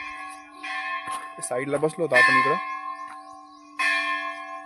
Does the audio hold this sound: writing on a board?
no